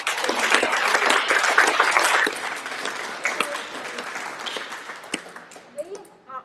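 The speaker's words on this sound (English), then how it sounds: "may I ask for you to put your hands together, give it applause." Audience applause at the Australian Alumni Awards 2021 ceremony, a sustained burst of clapping that gradually fades and thins to scattered claps, with some voices underneath.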